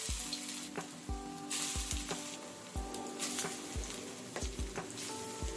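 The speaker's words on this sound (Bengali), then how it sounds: "কড়াইয়ে তেল গরম করে বড়াগুলো এক এক করে ছেড়ে দিলাম।" Prawn fritters fry in hot oil in a wok over medium heat, giving a continuous crackling sizzle with occasional soft taps, quiet and close with no voices.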